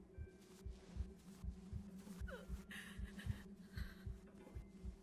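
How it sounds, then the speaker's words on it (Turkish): Racing heartbeat from the game Among The Sleep, a quick steady run of low thuds over a constant background hum, with faint higher rustles and a brief breathy sound. "Kalp atışım niye hızlanıyor?"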